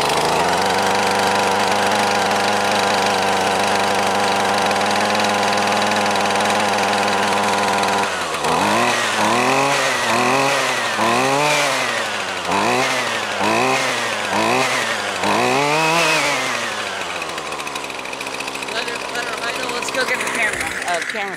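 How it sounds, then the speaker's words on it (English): A Husqvarna chainsaw engine catches and idles steadily, then revs up and down in repeated surges before settling back, loud and close throughout. "Husqvarna, I love them."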